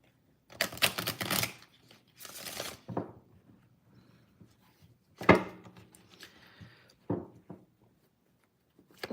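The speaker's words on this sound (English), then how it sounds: "One more shuffle." A tarot deck is shuffled close by in several quiet, crisp bursts of riffling and shuffling paper cards, separated by pauses.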